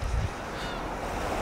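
Ocean surf washing onto the seashore in Toyama, a steady rushing wash of waves mixed with wind buffeting the microphone, with no talk.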